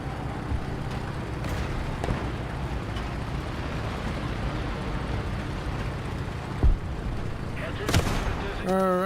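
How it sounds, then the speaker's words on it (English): Artillery airstrike in the video game Guerilla, a continuous rumbling barrage of distant blasts with a few sharper explosions near the end, under a dense battlefield din with a voice briefly present. "Request target for airstrike."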